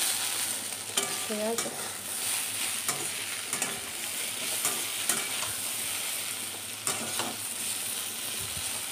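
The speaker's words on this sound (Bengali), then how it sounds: "দেখো, এই সিম ভাজা হয়ে এসছে, এবার নামাবো।" Green beans frying and being stirred in a pan, a steady close hiss of sizzling broken by scraping stir strokes, with one brief spoken phrase.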